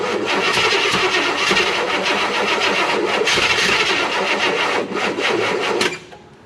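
A Chevrolet Malibu's small block V8 cranks over repeatedly with a rapid, loud rhythmic churn that runs for several seconds, then cuts off abruptly near the end.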